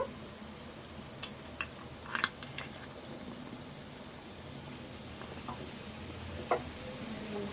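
Ivy gourd pieces fry in a pan with a soft, faint, steady sizzle, broken by a few scattered light clicks and taps from the utensil, with no voices.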